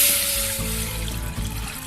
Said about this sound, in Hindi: मैंने आधा कप, ये देखें चाय वाला बड़ा कप पानी का मैं डाल रही हूँ बर्तन में